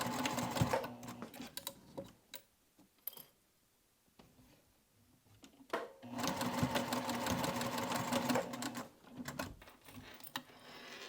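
Close and steady, a sewing machine chain-stitches a crossbody bag with two zips, running in bursts of rapid rhythmic needle clatter with a pause in the middle, then a long continuous run.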